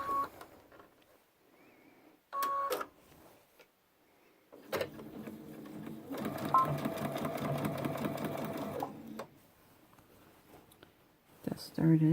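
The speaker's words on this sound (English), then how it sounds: "So let's go ahead and sew this bottom piece up." A sewing machine runs the bottom seam of a backpack in bursts, one short run and then a longer steady stretch of rapid mechanical stitching, close up, with quiet handling noises and brief soft talk between.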